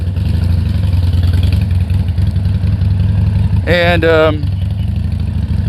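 A Harley-Davidson Sportster 1200 Custom motorcycle engine idles with a steady, close low rumble throughout, and a brief tonal whine rises over it near the end while someone talks now and then.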